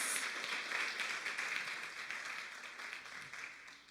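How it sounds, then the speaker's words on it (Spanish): Applause from a church congregation during a Spanish-language sermon, a dense wash of clapping that stays steady and fairly loud, then slowly fades toward the end. "si usted le va a aplaudir, apláudalo bien fuerte"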